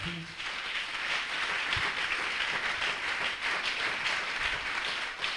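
A church congregation applauds and cheers to acclaim the Lord, a steady, dense wash of clapping that fills the whole stretch at even loudness, with a few lower thumps mixed in.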